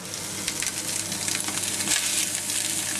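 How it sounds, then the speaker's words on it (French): Scored duck breast sears in a very hot frying pan, giving a steady, close, crackling sizzle with small spits and pops throughout and no voices. "On va sur la poêle qui est bien chaude."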